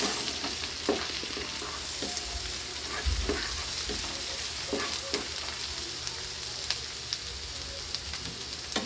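Garlic and onion sizzle loudly in oil as the base for squid adobo, with regular scraping and tapping stirs of a utensil in the pan over a constant frying hiss.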